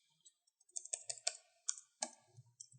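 Code being typed on a computer keyboard gives a quiet, close run of irregular clicks and key taps lasting a few seconds, with no voices.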